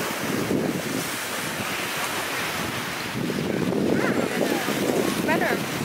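Strong wind gusts across a beach in Cancun, a steady loud roar buffeting the microphone with surf-like rushing, while a person talks faintly underneath.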